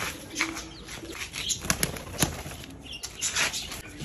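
Pigeons flap their wings in a busy flurry of soft, rushing beats on a village rooftop, with faint coos and chirps in the background.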